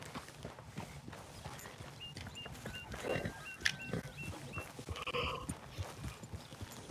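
Horse hooves clip-clop steadily at a walking pace in the Red Dead Redemption 2 video game, with a soft chirping tone and faint ambient sounds layered over the rhythmic footfalls.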